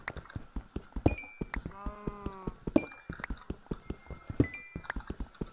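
Animal bleats from a Minecraft game, the sound the player tags as cows, rise over a steady run of rhythmic clicking footsteps, with two clear calls standing out in the middle.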